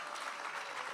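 Audience at a writers' festival session applauding the authors, a faint, even wash of clapping with no voices on top.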